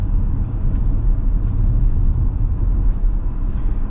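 Cabin of a 2025 Hyundai Tucson SEL Convenience AWD SUV with an 8-speed automatic, driving with a steady low road and engine rumble and no distinct shift events.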